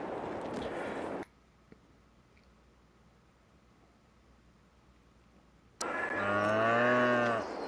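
Cows moo in Farming Simulator 22 at a Polish farm: one loud low moo opens the clip, a near-silent gap follows, then a second long, loud moo with rich harmonics closes it.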